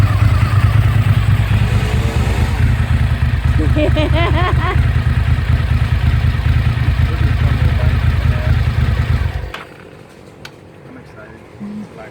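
A Ducati motorcycle engine runs close by with a steady, loud low rumble, voices briefly over it, before it cuts off abruptly near the end, leaving quiet.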